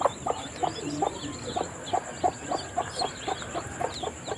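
A brooding hen with her newly hatched chicks clucks in a steady, evenly spaced series of short, close clucks that continues throughout with no talk.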